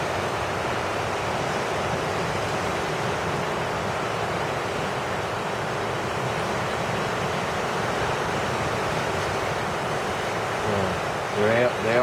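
Ocean waves break on a Northern California coastal beach, a steady, dense roar of surf with wind buffeting the microphone throughout, close and loud.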